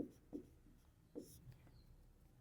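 Pen scratching on paper during a maths exercise, a few short faint strokes in quiet surroundings with soft background hiss.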